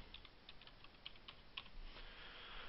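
Keys clack on a computer keyboard in a short burst of light, scattered taps, quiet and close against a faint hiss, with no talking.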